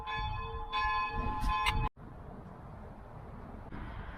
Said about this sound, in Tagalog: Ayan na, bumating-ting na yung kampana